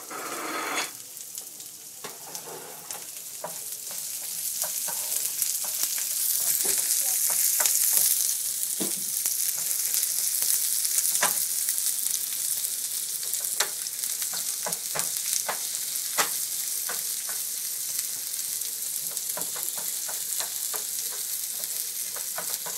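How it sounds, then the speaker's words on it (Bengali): Onions and garlic fry in hot mustard oil with a continuous close hiss and crackle, broken by frequent light clicks and scrapes of a utensil stirring the pan. "পেঁয়াজ আর রসুন একটু হালকা লাল হবে, বাদামি কালার, এত বেশি ভাজা না, হালকা।"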